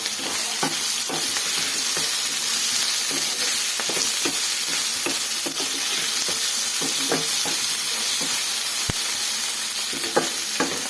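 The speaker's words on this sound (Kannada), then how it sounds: "ಎಳ್ಳು ಸೇರಿಸಿ ಇದಕ್ಕೆ ಫ್ರೈ ಮಾಡ್ಕೊಳ್ಳೋಣ." Sesame seeds sizzle and fry in a pan with turmeric, a steady bright crackling hiss throughout with occasional stirring clicks and scrapes, close and continuous without talk.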